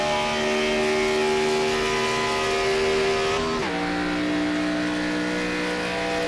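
Race car engines drone at high pitch in a Superspeedway Cup Series racing game, a steady loud whine that shifts down in pitch midway as a car passes by.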